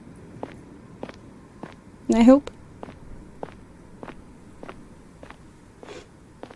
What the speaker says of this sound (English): Can you guys hear the footsteps?